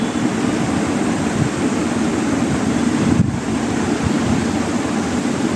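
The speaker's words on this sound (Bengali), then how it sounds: "এখন কিন্তু পাঁচটাও বাজে নাই এখনো দেখেন বাতাস" Wind blows outside in a loud, continuous rushing roar with low buffeting, steady throughout and heard alone without voices.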